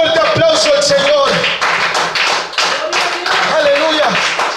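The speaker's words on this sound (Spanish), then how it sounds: "Démosle un fuerte aplauso al Señor" Pentecostal church congregation clapping loudly in rhythm during a service, with shouting voices and some music tones over the claps.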